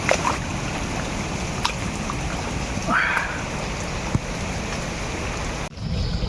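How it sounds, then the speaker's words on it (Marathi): Steady rain falling through the trees, a constant broadband hiss with occasional louder drips and a brief voice murmur partway through. "पाऊस पडतोय अजून"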